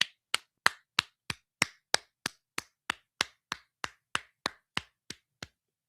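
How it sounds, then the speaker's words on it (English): One person claps steadily and alone, about seventeen crisp, evenly spaced claps close to the microphone, with silence between each. "give the front office a round of applause"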